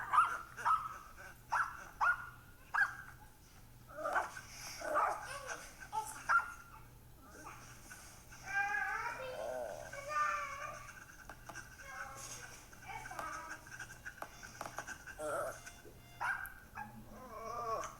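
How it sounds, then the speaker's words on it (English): A dog barks repeatedly indoors at home, its loud bursts arriving in an uneven rhythm and mixed with whiny, yowling calls in a busy domestic background. "You'll have to excuse the barking."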